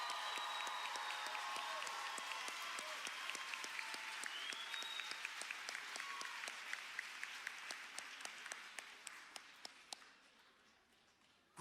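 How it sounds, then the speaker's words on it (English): An audience at a graduation ceremony gives the graduates a long round of applause, loud and dense at first, then thinning into scattered individual claps as it fades out, with a few cheers and voices mixed in. "Can everybody give a big round of applause for our miracle graduates?"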